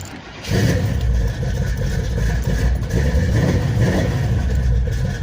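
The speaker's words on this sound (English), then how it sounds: "It's cold, but hey, it's starting." A cold Chevrolet Blazer engine cranks briefly and then catches, settling into a loud, rough, steady running rumble heard close by.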